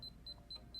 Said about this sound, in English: As you can see, it alarms